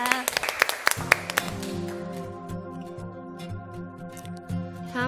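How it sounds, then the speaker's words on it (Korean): A church congregation gives a short burst of clapping near the start, followed by sustained organ-like music and a voice speaking over it. "우리 하나님께 영광의 박수 올려드립니다"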